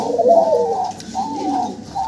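Small pigeons or doves cooing up close, a repeated soft, throaty coo phrase rising and falling several times in quick succession, clear and loud against a quiet background.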